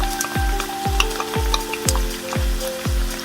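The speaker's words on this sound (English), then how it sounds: "Continue to let this sizzle and cook off for a couple minutes." Chopped scallions, parsley and chiffonade mint sizzle steadily in a frying pan, with a stirring scrape repeating roughly every half second over the continuous crackle.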